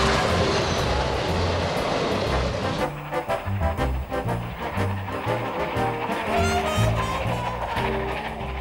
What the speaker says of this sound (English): the articulated steam locomotive. To see and hear one in action was an unforgettable experience.